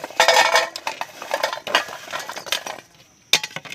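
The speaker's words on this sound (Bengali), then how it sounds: "আগে কাঁঠাল দানাগুলো দিয়ে দিচ্ছি গামলার মধ্যে" Jackfruit seeds are tipped into a basin, producing a quick run of hard clattering rattles and knocks that thin out briefly before one last sharp clatter near the end.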